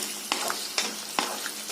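Country chicken varuval masala sizzles in a pan with a close, steady frying hiss. Three sharp stirring scrapes break the sound at roughly even intervals, and no one talks.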